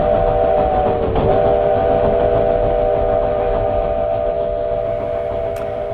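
A train runs steadily along the tracks with a continuous loud rumble and a sustained whistle-like tone that holds throughout, plus a brief metallic tick near the end.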